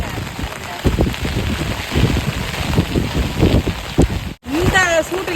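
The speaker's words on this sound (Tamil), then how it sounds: "இது வேற தண்ணி ஃபுல்லாவே சுற்றி நல்ல மழைங்க" Heavy rain pours down continuously, a dense, loud hiss with scattered heavier drops, and wind buffets the microphone. Near the end the sound cuts out briefly, then returns with a faint voice heard under the rain.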